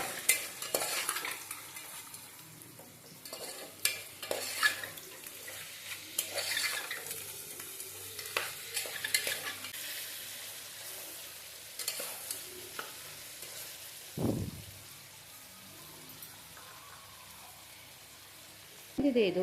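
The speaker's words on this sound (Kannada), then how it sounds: "ಈಗ ನಾನು ಇದನ್ನೆಲ್ಲ ಮಿಕ್ಸ್ ಮಾಡ್ತೇನೆ" Village-style chicken sambar with rock salt being stirred in a pot, with repeated close scraping and sloshing strokes over a faint sizzle, louder at the start and easing off later.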